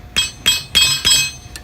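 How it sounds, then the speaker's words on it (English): A small hammer taps a bearing on an AMCO ditcher, giving five sharp, ringing metallic strikes spaced roughly a third of a second apart, close and clear with no voices. "Sometimes you might have to tap it with a small hammer just to get it flat."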